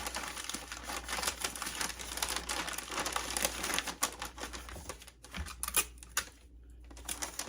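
Heavy wrapping paper is crinkled and folded around a pair of Sam Edelman Circus sandals for shipping, giving dense, close crackling and rustling with sharp crunches and brief pauses toward the end.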